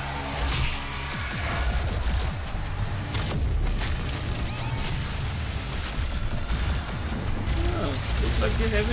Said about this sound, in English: I'm shooting at demons